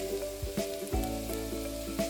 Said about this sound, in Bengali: এখন একই তেলের মধ্যে দিয়ে দেবো ছোট ছোট করে কুচনো ফুলকপি।